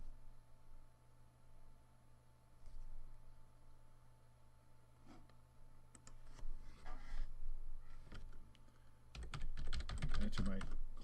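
Computer keyboard typing as client login credentials are entered on a Windows 7 PC, scattered keystrokes early then a dense, louder burst of rapid clicking near the end, close and fairly quiet over steady background hum.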